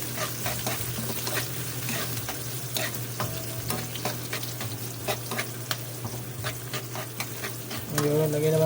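Garlic and onion sizzle and fry in a pan for adobo, a steady close crackle broken by repeated sharp scrapes and stirs, with a brief tonal clatter near the end.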